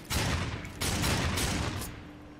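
Gunfire in the video game Darksiders 2, a couple of dense bursts of rapid shots close by, the second burst trailing off into quieter rumble.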